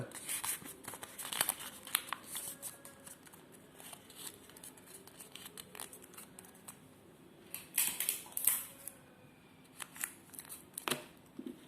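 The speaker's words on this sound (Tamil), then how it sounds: "வரைஞ்சி முடிச்சப்பறம் இதை மடிச்சுக்கோங்க" A sheet of paper being folded and creased by hand, with soft crinkles and sharper rustling bursts scattered through, close and quiet, with no talking over it.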